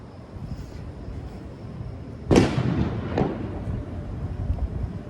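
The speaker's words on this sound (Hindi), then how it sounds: "कल इनका इंडिपेंडेंस डे था इसलिए यहाँ पे पटाखे फूट रहे हैं" A single firecracker bursts during Independence Day celebrations in America, a sharp loud crack midway with a decaying rumble and a fainter follow-up pop over quiet nighttime background.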